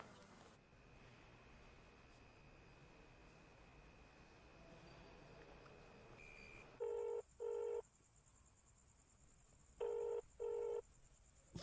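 Outgoing phone call going unanswered: faint background hiss and a thin steady tone, then two pairs of loud electronic ringback tones repeating in a regular pattern with pauses between.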